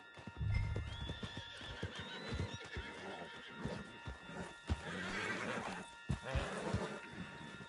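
A horse whinnies amid a busy mix of hoofbeats clopping and outdoor commotion in the video game Red Dead Redemption, with a faint voice mixed in.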